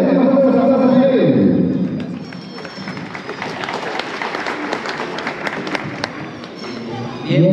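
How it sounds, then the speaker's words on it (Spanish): Wedding guests at a ceremony in Huancayo applaud, a crowd clapping that swells after a spoken announcement and carries on for several seconds, with a voice talking at the start and end. "¡Tenemos todos los aplausos de él!"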